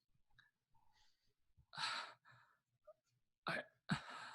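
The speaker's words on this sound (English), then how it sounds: "it just sounds like kind of like raspy breathing" Raspy, heavy breathing in irregular bursts, several close, harsh exhalations and gasps separated by quiet pauses, loudest near the end, with a few faint vocal murmurs between breaths.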